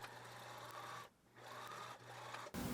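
A sewing machine stitches the waistband of corduroy pants in quiet, fast mechanical runs, pausing briefly twice before a louder clunk at the end, with no voices.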